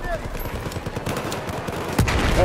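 M4 rifle gunfire crackles in the video game Battlefield 4 in a rapid, rhythmic string of close shots, with a louder burst near the end and a busy battle din underneath.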